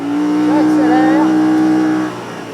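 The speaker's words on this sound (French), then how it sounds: "le moteur, je peux vous dire qu'il y a plus de 100 chevaux, hein, parce que ça accélère quand même pas mal" A car engine of over 100 horsepower accelerates, giving a loud, steady, high-pitched whine with wavering overtones that drops away sharply near the end.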